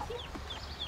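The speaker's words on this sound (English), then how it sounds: "That little chicken." A small chicken clucking faintly at close range on a farm, a few short soft calls over quiet background noise.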